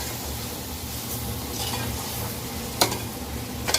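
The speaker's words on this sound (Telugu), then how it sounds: "ఆ బియ్యం వేసుకోవాలి. బాగా కలుపుకోవాలి." Rice being stirred into a pot of country-chicken pulao, a soft, steady scrape and faint sizzle, with two sharp clinks of a spoon against the pot near the end.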